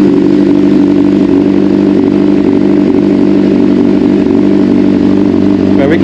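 A Honda CBR600RR sport motorcycle with a newly installed radiator idles steadily and loudly close by, a constant engine drone lasting throughout with no talking.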